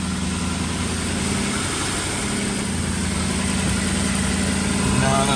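A 2006 Jaguar XJ8 engine idles steadily after a fuel filter change, a continuous close, even rumble with a low hum that holds level and swells slightly at the end.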